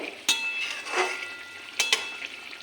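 Green banana and potato pieces are stirred in a pan with ghee and fenugreek, with a few sharp utensil clicks and scrapes over a soft, steady sizzle and no talking.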